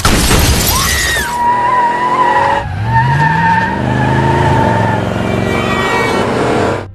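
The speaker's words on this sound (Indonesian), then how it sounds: "tiba-tiba mobil mereka ditabrak oleh sebuah mobil yang dikendarai oleh Magnus." A car is rammed by another car during an action-film chase: loud, close tire skids and squeals, crunching and shattering impact, then sustained engine roar and further skidding, with no voices.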